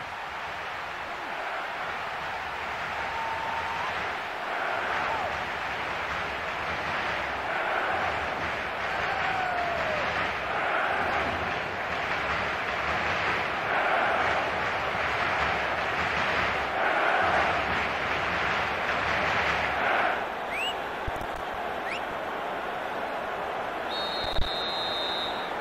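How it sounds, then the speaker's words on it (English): Steady stadium crowd noise in the football video game eFootball PES 2023, a continuous roaring murmur with swelling cheers throughout, loud and sustained with no pauses. "The crowd wait to offer them a red-hot welcome."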